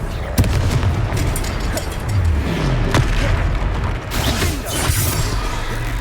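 The Confringo blasting spell in Hogwarts Legacy goes off in repeated booming bursts and crackling impacts, with creaking mechanical clatter layered over a dense, loud rumble.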